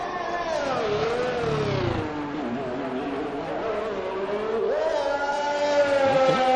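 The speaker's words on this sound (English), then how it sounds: "The engines, they overhype the engines in this game." Formula 1 race car engines in an F1 video game set at Bahrain whine and rev, high pitched notes sweeping down and back up as cars pass, loud and continuous with no speech.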